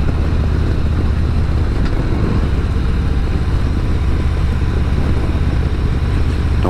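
A steady road rumble with engine drone from a motorcycle riding on the Florida Gulf Coast, heavy wind and tire noise, loud and continuous throughout.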